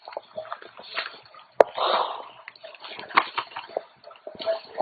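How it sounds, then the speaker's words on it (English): A bucket of water thrown at a person outdoors in the rain lands as one sudden loud splash, followed by sloshing, dripping and scattered wet spatters up close. "he threw a damn bucket of water"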